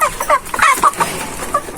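A chicken clucks close by in a yard with dogs, a quick series of loud, sharp clucks in uneven bursts over about two seconds.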